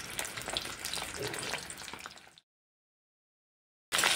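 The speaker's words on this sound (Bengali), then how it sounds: "কেটে রাখা আলুগুলোকে ছেড়ে দেবো তেলের মধ্যে।" Cut potatoes frying in oil with turmeric, a steady close crackling sizzle for a couple of seconds, then a stretch of silence before the sizzle returns briefly at the end.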